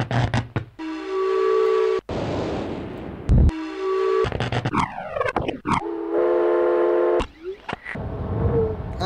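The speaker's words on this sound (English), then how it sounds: "Is that a steam train?" Steam train from the video game Myst, with loud, drawn-out whistle blasts repeating over several seconds, separated by bursts of broad hissing steam and brief gaps, close and with no talking.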